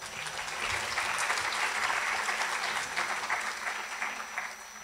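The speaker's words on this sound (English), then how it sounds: "let's give them a round of applause" A lecture hall audience applauds steadily as thanks to the iClicker company, a dense, even wash of many hands clapping that holds for several seconds and tapers slightly at the end, with no talk over it.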